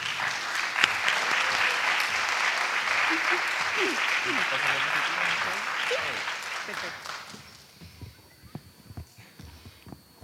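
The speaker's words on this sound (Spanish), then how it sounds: "Un aplauso," Sustained audience applause at a medical conference in a large lecture hall, dense and steady for about seven seconds before fading into scattered claps and a voice beginning to speak.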